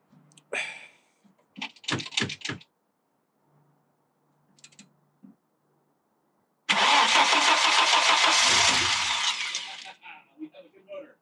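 Audi S6 Avant engine cranks and fires up, settling into a loud, steady idle up close after a few quiet clicks and thumps, then fading with brief noises at the end.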